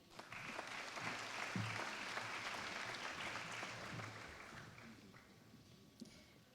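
Sustained audience applause at a university graduation ceremony for Bachelor of Education graduates, a dense, steady wash of many hands clapping that holds for several seconds, with faint voices mixed in beneath.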